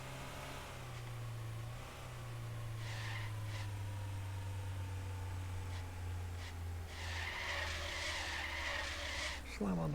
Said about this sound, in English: Slam on the brakes